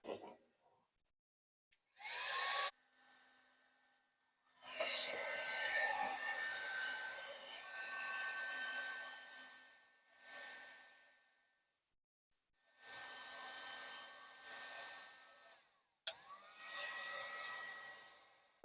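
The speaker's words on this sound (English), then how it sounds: "So let's try this heat gun," Heat gun warming a stuck lower radiator hose clamp on a 2004 Cummins, a broad whooshing blower roar in several bursts of a few seconds each separated by quiet gaps, moderately close.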